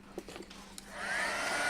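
A hair dryer switches on and blows a steady, whooshing whine, drying metallic paint on a mixed media project, after a few small handling knocks and clicks.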